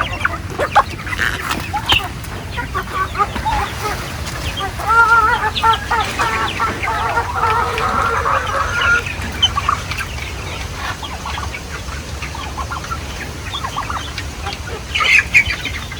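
Several month-old chickens clucking and squawking nearby in a pen, irregular bursts over a steady low background rumble.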